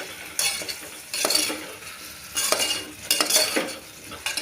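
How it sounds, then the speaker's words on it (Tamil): Turmeric being mixed into a sautéing masala for sambar rice, with several bursts of spoon scraping and stirring against the pan over a light sizzle, close and fairly loud, separated by brief quieter gaps, no talking. "கொஞ்சமாக மஞ்சத்தூள் போட்டு நல்லா மிக்ஸ் பண்ணி விட்டுருவாங்க ஒரு ரெண்டு நிமிஷம் நல்லா வணங்கட்டும் அந்த மசாலா"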